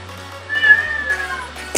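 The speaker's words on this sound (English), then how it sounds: "My cat's being annoying." A house cat meows indoors behind computer game sounds, a clear rising-falling call of moderate loudness near the middle of the moment, with a steady low hum underneath and no talking.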